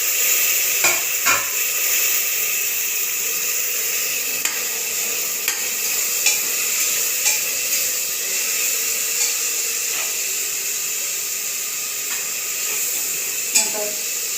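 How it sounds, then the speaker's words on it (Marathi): Tomatoes sauté in hot oil for mutton biryani, giving a steady close sizzle and hiss with occasional light stirring clicks throughout. "टोमॅटो पण थोडंसं तेलावर परतून घ्यायचं"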